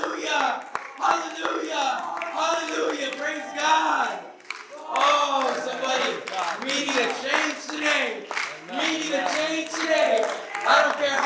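A worship congregation claps and cheers together, a dense crowd roar with rhythmic handclaps and shouting voices, loud and close, swelling and easing briefly before surging again.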